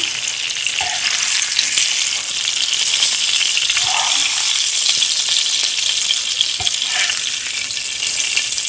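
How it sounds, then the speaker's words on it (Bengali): Koi fish frying in hot oil in a pan give a steady, loud, close sizzle throughout, with a few soft utensil clinks as the pieces are lifted out. "দেখতেই পাচ্ছেন মাছগুলি আমার ভাজা হয়ে গিয়েছে এখন আমি উঠিয়ে রাখবো তুলে নিচ্ছি"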